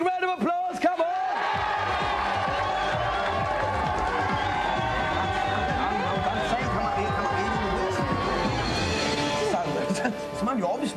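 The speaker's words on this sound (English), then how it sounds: "Give them a big round of applause." Studio audience of a TV games show applauding, a dense sustained wash of clapping and cheers throughout, with a host's voice talking over it.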